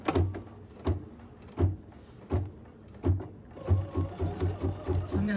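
An embroidery machine sews the top of an in-the-hoop bib, giving regular close thumps and clicks. These speed up into a denser run of rhythmic stitching toward the end.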